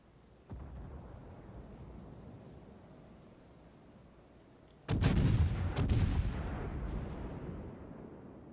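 Video game gunfire: a steady low rumble, then a sudden loud burst of close shots with a couple of sharp cracks that fades into a lingering roar.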